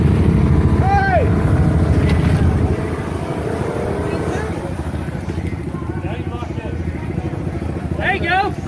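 The engine of a Polaris Sportsman 850 Highlifter ATV with a weak battery runs with a loud, steady rumble up close, easing off a little partway through, while a person speaks and calls out over it.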